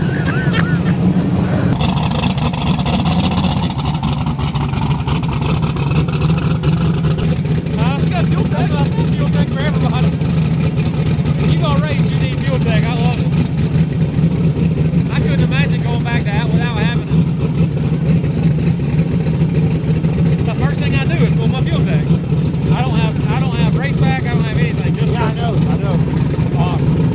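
A ProCharged Hemi drag car and a nitrous 959 car accelerate hard, a loud sustained engine roar running the whole time, heard from nearby with voices talking over it.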